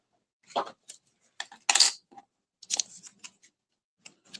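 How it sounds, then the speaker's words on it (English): Scissors snip through paper while a Winnie the Pooh image is fussy cut, giving sparse, close, crisp cuts in short irregular bursts with quiet gaps between them. "So I'm just cutting what I want to fussy cut."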